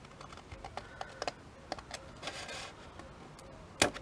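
Scissors snip narrow V-shaped notches into paper while a tri-fold ephemera booklet is made, giving a series of short, close, crisp cuts with a sharper snip near the end.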